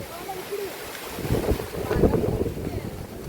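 Steady wind by a river buffets the microphone in a rough, gusting roar that strengthens midway, with a hint of water beneath.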